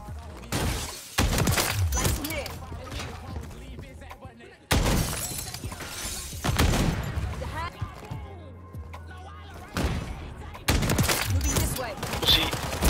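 Loud sniper rifle shots with sharp cracking impacts ring out in an online shooter video game, several separate blasts spaced seconds apart, with players talking excitedly in between.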